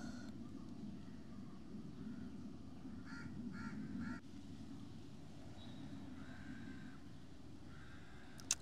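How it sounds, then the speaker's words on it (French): Outdoors among palm trees, birds call in short repeated bursts, including a quick triple call, over a steady low rush of wind through the palm leaves, the birds moderately distant and the breeze constant throughout, with no talking. "Les oiseaux, le vent dans les feuilles des palmiers nous accompagnent dans cette posture introspective."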